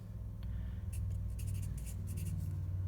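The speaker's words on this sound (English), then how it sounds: "So then I would write in my answer here, Simon" A pencil scratches an answer onto paper in a few quick, light strokes, faint and close, over a low steady hum.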